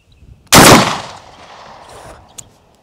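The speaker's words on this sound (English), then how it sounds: "I know y'all ain't hitting no hip fire with this 12 gauge from all the way back here at 30 yards" A Mossberg Shockwave 590 12-gauge shotgun fired from the hip outdoors at about 30 yards: one sharp, very loud blast after a quiet start, then a long fading echo and a small faint click near the end.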